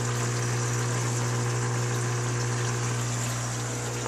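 Water flows steadily out through slits in the sides and bottom of a filter container over scrubbing pads, a constant gushing hiss above a low pump hum that runs throughout.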